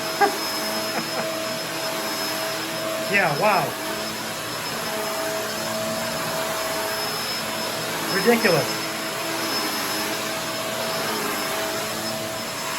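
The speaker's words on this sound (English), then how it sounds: "I'm going to vacuum a little bit so you can see how strong this thing is" A Kenmore DU2015 bagless upright vacuum cleaner runs on carpet with a steady, loud whine and hum throughout, while someone talks briefly over it twice.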